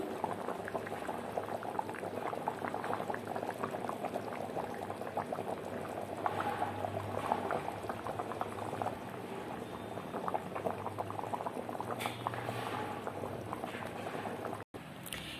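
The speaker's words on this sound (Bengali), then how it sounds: "ঝোল ফুটছে, কিছুক্ষণ হবে, এখনো মাংস সেদ্ধ হয়নি" A pot of mutton curry bubbles continuously at a low, steady simmer, thick popping and gurgling close by with no voices.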